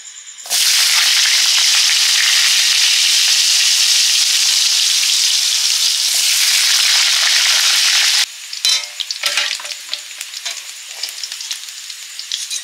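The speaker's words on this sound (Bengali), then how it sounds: "আলুগুলো ভেজে নিচ্ছি।" Potato pieces frying in hot oil give a loud, dense, continuous sizzle close by that starts abruptly, holds steady for several seconds, then drops to a lighter crackle with some stirring.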